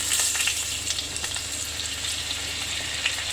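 Veal escalope sizzles in a frying pan after a splash of water is added, a dense steady hiss with small crackles, close and fairly loud throughout, with no talking.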